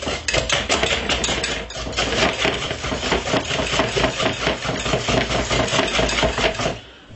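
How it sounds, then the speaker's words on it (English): Chocolate sponge cake batter being whisked with a whisk in a bowl, producing rapid, loud, regular metallic tapping and scraping strokes, close and continuous until they stop near the end. "get a whisk like this and just give it a nice lovely whisk"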